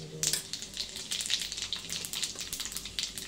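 Mustard seeds and cumin crackle and sizzle in hot oil, a continuous close frying hiss dotted with sharp pops, with no speech.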